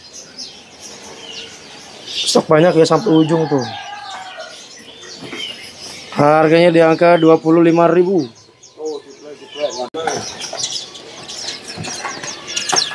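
Perenjak abu songbirds for sale at a bird shop chirp in loud bursts of repeated trilling notes, with wing flapping in cages, while someone talks over them.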